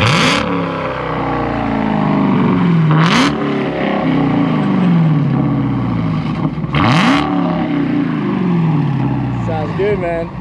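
A car engine revs repeatedly, rising and falling in pitch, loud and close, with sharp bursts between the revs.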